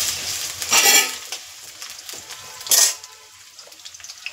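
Elephant foot yam pieces fry in oil in a pan, with two loud bursts of sizzling and clatter around stirring and a quieter low sizzle in between.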